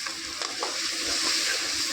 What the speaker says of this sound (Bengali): তারপরে মশলাগুলো কিছুক্ষণ আমি ভেজে নিলাম।